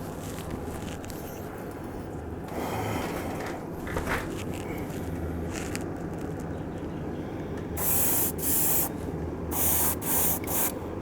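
An SGA 130K airbrush sprays paint onto a handmade garfish swim-bait lure, with soft hissing bursts that start and stop and louder, sharper spurts near the end.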